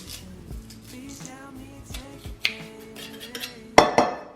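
Garlic cloves pressed straight into a cooking pot, with clinks and clatters of metal utensils against the pot, sharp knocks near the end, close and fairly loud with no talk.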